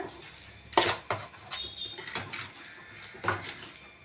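Potato masala being stirred in a pan, with several sharp spoon-on-metal clinks and scrapes in an irregular rhythm, fairly quiet and close.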